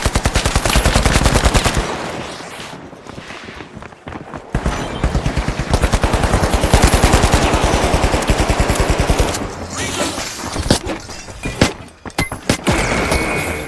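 Loud, rapid automatic gunfire from the video game The Finals rattles out in long sustained bursts with brief pauses between volleys.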